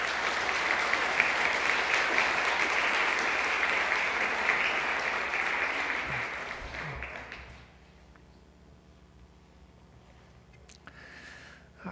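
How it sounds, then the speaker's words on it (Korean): A church congregation at an autumn revival service in Atlanta claps together to welcome the pastor. The dense applause holds for about seven seconds, then fades into quiet room sound with a few faint scattered noises. "또 하나님께 영광 돌리면서 우리 박수로 우리 환영하십시다."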